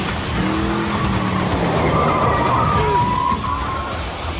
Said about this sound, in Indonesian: Mobil truk si Joe harus berhenti karena tergelincir